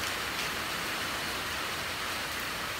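Rain falls steadily outdoors at night during a trapping outing on the Hau River. The even, close hiss has no voices over it.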